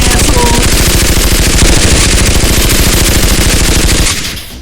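Rapid machine-gun fire from a sound effect in a toy dinosaur battle, loud and continuous for about four seconds of dense automatic bursts, then cutting off into a short fading tail.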